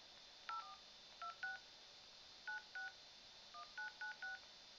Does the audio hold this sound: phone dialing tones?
yes